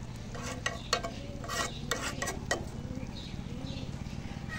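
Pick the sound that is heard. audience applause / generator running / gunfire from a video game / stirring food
stirring food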